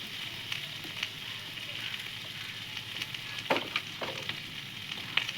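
Vegetables sautéing in a pan with ground ginger and green chilli paste, a steady soft sizzle throughout with a few sharper scraping stirs and crackles, close and moderately quiet.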